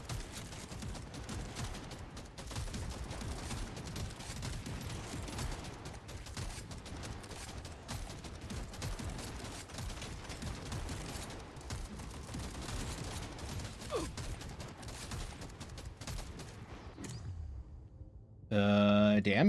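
Dense, continuous automatic gunfire and weapon effects from the video game Deep Rock Galactic Survivor, a steady rapid barrage with game sounds layered throughout, ending in a brief louder musical jingle.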